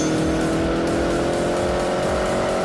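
A tuned car with new rods, pistons and turbocharger making 330 horsepower accelerates hard away, its engine roaring loud and steady throughout with a rising harmonic drone, heard up close without talk.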